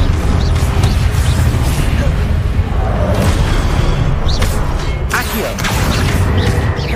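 Confringo fire spell detonating in the Hogwarts Legacy game, amid dense, continuous combat noise, with loud booming bursts and crackling impacts layered over a constant rumble.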